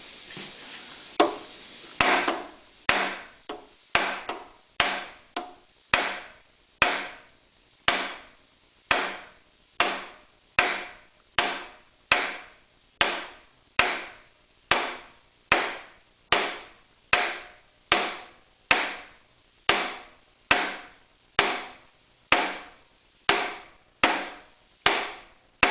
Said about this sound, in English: Then I'm going to take a brass hammer and just hit on the end of the bolt head to try and drive the starter out of this motor mount.